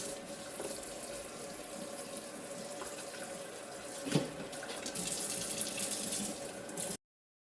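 Tap water runs steadily over slabs of cured bacon in a sink as the cure is rinsed off, a continuous close splashing stream with one brief knock midway before it cuts off.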